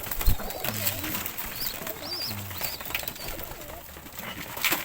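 Pet pigeons gather at feeding time and coo in repeated low, rolling phrases, several birds close by over a steady outdoor background, with an occasional faint flutter of wings.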